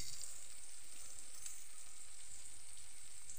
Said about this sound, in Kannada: ಲೋ ಟು ಮೀಡಿಯಮ್ ಹೀಟಲ್ಲಿ ಇದನ್ನು ಹುರಿಯುವ ನಾವು.